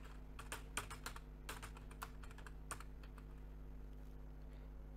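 Keystrokes on a computer keyboard as a search query is typed into the Windows search bar, a quick irregular run of close, light clicks with short pauses, over a steady low hum and no talking.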